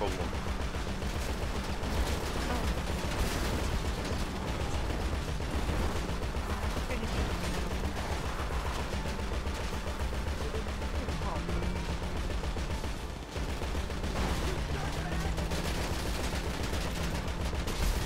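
Grand Theft Auto V gunfire during a heist, rapid continuous volleys of shots layered over a dense, loud game soundscape throughout, with a voice talking at times.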